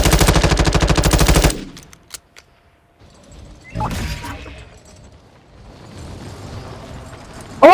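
Automatic gunfire from the DMZ first-person shooter video game, with a loud sustained rapid burst up front that cuts off abruptly, then scattered clicks and mechanical game sounds over a low background.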